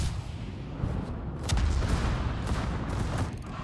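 Naval gunfire in a warship video game, with heavy cannon salvos booming in a continuous, rumbling fusillade and a few sharper blasts standing out over the dense battle noise.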